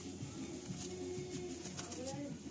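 A male Malbai pigeon coos softly in low, rolling tones, repeated through a steady background hiss with a few faint higher chirps.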